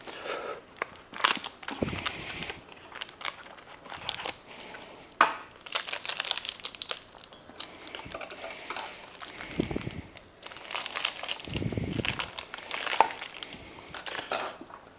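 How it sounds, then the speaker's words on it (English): A knife cuts and crushes firm achiote paste on a cutting board, giving irregular close crunches and crackles with brief pauses and no talking. "Grab my cutting board. I'm going to cut up the achiote paste a little bit."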